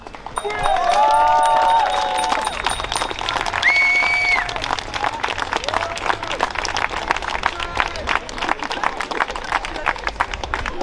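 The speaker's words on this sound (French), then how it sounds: "je pense qu'on peut s'applaudir d'avoir tous été là quand même" Climate march crowd of about 2,500 applauding themselves outdoors: steady clapping spread across the whole stretch, with voices and whistle-like calls rising over it early on.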